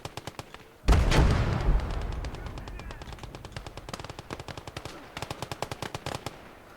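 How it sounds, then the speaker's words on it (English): Machine guns fire in a defensive battle in a war video game, a loud opening burst followed by rapid rhythmic rattling volleys that keep repeating close by, without speech. "Our little machine guns are doing really well."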